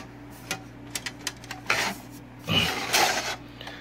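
A metal cover scrapes and slides off a Patriot Ritron RRX-460 radio repeater exciter: a few small taps and clicks, then two rasping slides up close, the second longer and louder.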